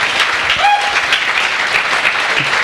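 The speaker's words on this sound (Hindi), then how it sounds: "मैं चाहूंगा ऐसी माँ के लिए भी जोरदार ताली होनी चाहिए।" An audience applauds loudly and continuously after a speech, a dense wash of clapping with no pauses.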